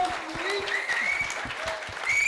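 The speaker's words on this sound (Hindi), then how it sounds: "शानू जी के लिए जोरदार तालियां हो जाएं।" A crowd at a film poster unveiling event applauds briefly, moderate clapping mixed with whistles and cheers, heard over a couple of seconds with the noise swelling toward the end.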